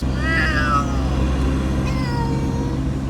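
Two cats meow and yowl at once in long, overlapping drawn-out cries, fairly loud and close, over a low background rumble.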